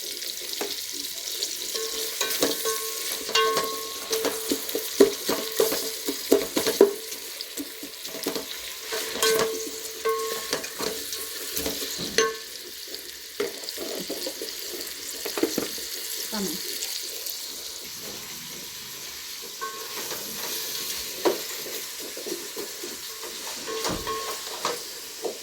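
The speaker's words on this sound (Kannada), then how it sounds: "ಆನಿಯನ್ ಫ್ರೈ ಆಗಲಿ." Onions fry in a pan with salt for biryani, a constant crackling sizzle with frequent spatula scrapes and stirring taps, close and busy throughout, with faint background voices at times.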